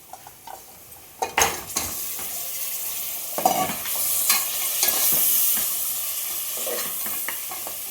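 Goat trotters fry in a pan with a bright, steady sizzle that swells midway, while a utensil clatters and scrapes against the metal in a few close knocks.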